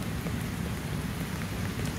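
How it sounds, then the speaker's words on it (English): Steady rain falling at a koi pond in the Miami Beach Botanical Garden, a dense, even hiss of drops with no voices. "So on this day of rain before this terrible storm arrives"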